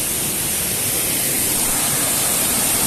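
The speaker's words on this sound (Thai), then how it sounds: "นี่ น้ำตกผ" A forest waterfall roars as a steady, loud wash of broadband rushing water, unbroken and constant throughout without any voices.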